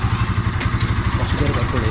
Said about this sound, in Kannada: ಸೊ ಗಾಡಿ ಆನ್ ಮಾಡ್ಕೊಂಡು